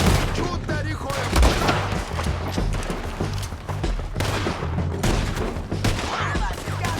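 Dense, sustained gunfire in Red Dead Redemption, rapid overlapping shots with heavy booms running throughout, loud and close, with shouting voices mixed in.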